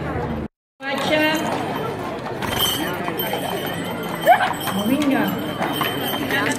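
Horses pulling a carriage at the Sant Antoni festival parade in Olot, with hoof clip-clops on the street amid crowd chatter and nearby voices.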